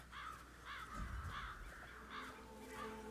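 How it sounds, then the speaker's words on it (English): Crows in Hitman 3's Dartmoor level caw repeatedly in a steady rhythm, several harsh calls spaced about half a second apart, fairly close over low ambient game rumble. "Damn birds."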